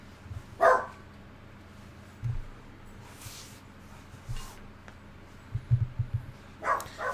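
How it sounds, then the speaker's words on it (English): Two dogs barking in short, loud bursts, spaced out over several seconds with a few sharper yips, while drilling and hammering work goes on next door in the background. "so I think that's actually what they're barking at"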